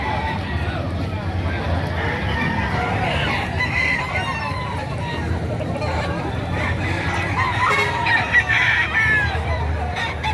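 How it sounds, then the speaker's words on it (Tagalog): Chickens cluck and a rooster crows amid a noisy crowd at a livestock market, with people talking nearby and general market hubbub all around. "Yan, ito yung mga dala ni sir ng mga manok."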